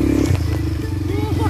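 Motorcycle engine revving close by at a dam site, a steady low rumble that climbs under the throttle, with people talking and shouting over it throughout.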